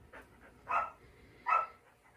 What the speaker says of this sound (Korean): 아이들이 뛰어나가면서 막 짖고 흥분하니까 같이 분위기 휩려가지고 흥분했습니다